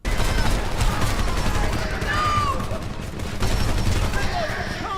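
Light machine gun fire in the war shooter game Homefront, a dense, continuous burst of rapid shots with explosions and combat noise, with voices talking over the battle throughout.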